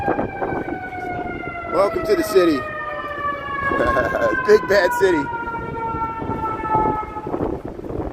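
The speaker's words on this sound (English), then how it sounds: "That was a fire truck. A fire truck just went through there." A fire truck siren in a busy Chicago city street near Wrigleyville: a steady wailing tone sliding downward as it passes and fades, heard over crowd noise and traffic, with people talking nearby.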